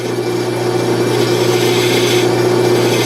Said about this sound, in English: So now I use the square carbide to finish off a nice sweep